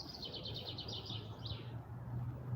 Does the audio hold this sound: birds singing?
yes